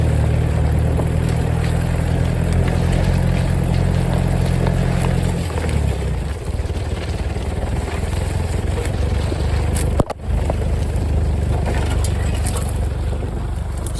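A Toyota Hilux drives along a narrow hedged lane in Pembrokeshire, its engine a steady low drone inside the cab that drops in pitch partway through, with a single sharp knock near the end.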